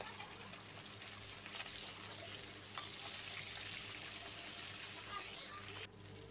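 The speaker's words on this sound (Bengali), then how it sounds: "মাছ ভাজা হয়ে গেছে, নামিয়ে নেব মাছগুলো।" Rohu fish pieces fry in hot oil in a pan, giving a soft, steady sizzle and crackle that stays even and close, with a few faint clinks, then drops away near the end.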